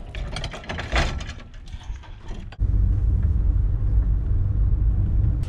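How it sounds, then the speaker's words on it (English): The Dursey Island cable car heads back across, starting with scattered clanks and creaks, then settling into a loud continuous mechanical rumble with a ratcheting rattle close by. "Cable car is just going back."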